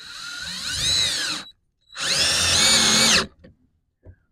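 Power drill driving screws into wood while building a deer feeder, two loud close bursts of whining motor, the second longer, separated by a short pause and followed by faint knocks.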